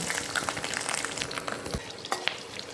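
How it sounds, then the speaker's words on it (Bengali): Chopped onion dropped into hot oil in a wok sizzles and crackles steadily, with stirring scrapes breaking through the close, continuous frying hiss throughout. "তেল গরম হয়ে গেছে। এবার আমি এর মধ্যে প্রথম পেঁয়াজটা ছেড়ে দিলাম।"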